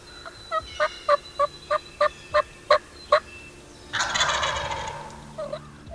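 Wild turkey toms gobble in a quick run of eight or nine sharp, evenly spaced calls during a spring hunt, fairly close and loud, followed by a longer rough rattling gobble, with no voices.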